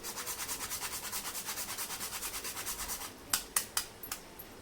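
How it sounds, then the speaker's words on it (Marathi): Nutmeg grated by hand into a mango and coconut sweet mixture, a steady rhythmic rasping of about a dozen close strokes followed by a few sharp clicks and taps. "आता याच्यामध्ये आपण जायफळ मी जायफळ असं किसून घालते आहे"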